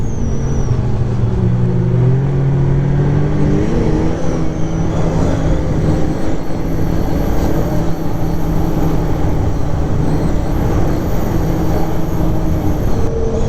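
A 1200 motorcycle loaded with saddlebags rides through Vermont countryside, its engine droning loud and steady with constant wind and road roar. There are no voices.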